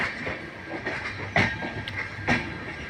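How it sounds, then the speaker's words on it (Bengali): A train pulls into Dum Dum railway station with a steady rumble, soft wheel clatter and a few louder knocks at irregular intervals. The sound is close and fairly loud, and nobody talks. "দমদম স্টেশনে ঢুকছে আমাদের ট্রেন।"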